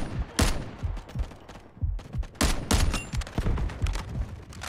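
Gunfire in the video game Delta Force, rapid bursts of loud, close shots in uneven clusters, with brief gaps between volleys and no talk.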